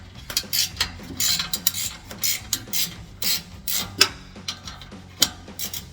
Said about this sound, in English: Pretty tight quarters, so I'm using the standard wrench here as well.